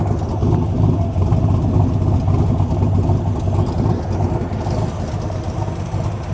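An original 1966 Corvette Stingray idling, with a loud, steady, even low rumble that holds smooth and unbroken for the full stretch.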